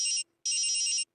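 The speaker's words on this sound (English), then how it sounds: "All right, Taj, your phone is ringing." A phone ringtone plays in two loud electronic bursts, a short ring followed by a pause and then a longer one, set against a tabletop role-playing session of Cyberpunk Red, with a brief thump at the very end.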